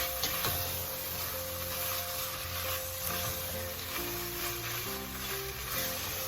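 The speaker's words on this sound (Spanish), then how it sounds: "Cocinamos alrededor de unos 30 segundos para que se disuelva el puré de tomate, que cubra toda la carne." Shredded meat coated in tomato purée sizzles in a hot pan for ropa vieja, a steady, dense frying hiss with faint stirring scrapes underneath.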